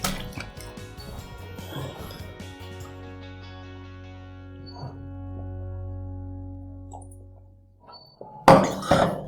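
A glass or cup clinks and rings with a long fading tone, then a few louder knocks and a splash of water at the end, heard alone in a quiet room.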